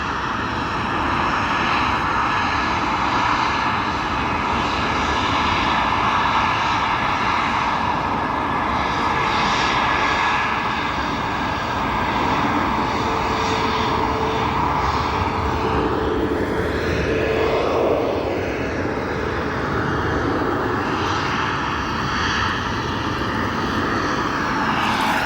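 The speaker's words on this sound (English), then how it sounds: "Here comes our American Airlines TWA livery into O'Hare International Airport." American Airlines airliner in TWA livery landing at O'Hare International Airport, a loud sustained jet roar with a rising and falling whine as it passes, continuous for the whole stretch.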